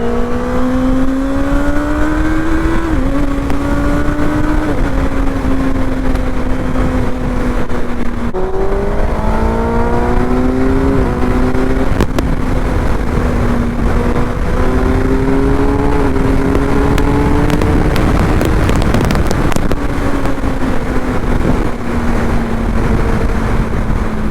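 A powerful vehicle roars through its stock exhaust, revving up and shifting repeatedly over a long, loud run, the engine pitch climbing and dropping with each gear change, no talk heard.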